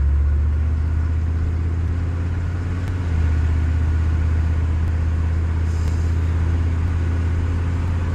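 A 1992 Chevy truck with a 6.5 Detroit Diesel and 4L80E automatic drives along, its steady low engine drone and rumble filling the cab, with no clearly marked shift.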